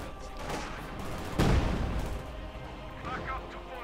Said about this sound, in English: Field gun bombarding there.